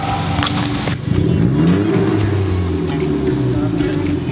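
Car engine with a modified open exhaust revving loudly and continuously nearby, the roar holding steady with rising and falling pitch throughout, with some shouting in the background.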